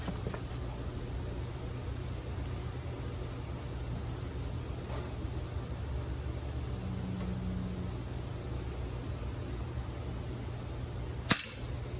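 An FX Impact .30 calibre air rifle with a 105cc plenum fires one sharp, loud crack near the end, after a long stretch of steady low background noise with only faint ticks.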